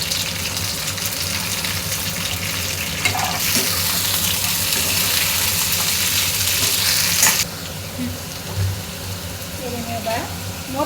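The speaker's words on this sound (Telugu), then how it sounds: "నేను ఇందులో ఒక 1/2 కేజీ నాటు చిక్కుడుకాయలు వేస్తున్నాను" Half a kilo of broad beans, added to a pan of sautéed pieces for a tomato curry, sizzle and crackle loudly up close, with a sharp burst of frying in the middle and stirring noises; a voice speaks at times.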